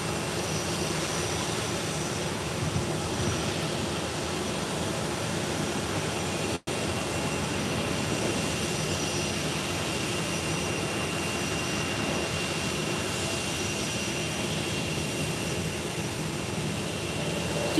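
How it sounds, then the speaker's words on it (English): A Turkish Airlines A321neo from Istanbul lands at Málaga Costa del Sol Airport, its jet engines giving a steady, broad roar that holds unbroken at a distance, with a single brief dropout partway through. "Turkish Airlines A321neo from Istanbul is just about to land."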